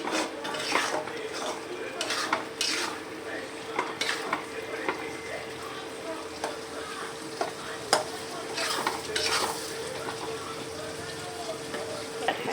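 Masala being stirred and scraped in a pan to keep it from sticking, with frequent spoon-on-metal clinks over a steady sizzle and faint voices in the background.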